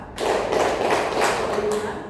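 Group hand clapping in a counting clap game, a dense burst of many hands clapping together, loud and close, sustained for about two seconds with voices faintly underneath.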